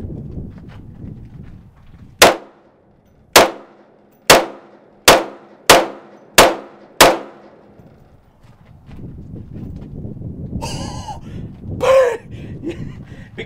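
Seven loud, sharp .357 Desert Eagle pistol shots, fired outdoors at a July 4th shoot and spaced roughly a second apart, each with a short decaying ring, followed by low background rumble and a few brief bird-like chirps.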